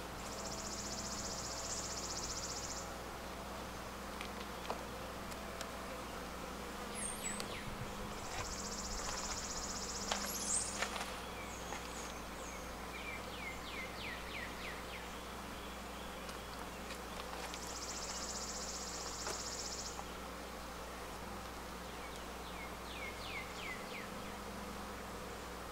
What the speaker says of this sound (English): got a bee inside there